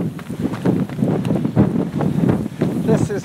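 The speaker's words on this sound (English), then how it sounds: "This is like a 35-kilometer wind from the north." A strong north wind of about 35 kilometers per hour buffets the microphone in loud, gusty rumbles, with a voice faintly heard within the noise.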